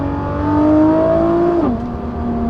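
Car engine, a GTR, revving up through an upshift and then dropping pitch on a downshift into a corner of a winding mountain road, a loud, close, continuous engine drone with a sharp pitch fall near the end.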